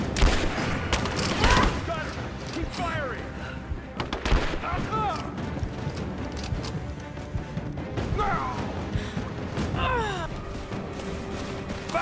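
Enemy gunfire in Rise of the Tomb Raider's Endurance Mode outdoors among trees and rocks, steady bursts of automatic shots and impacts throughout, with ricochet whines, under a voice talking.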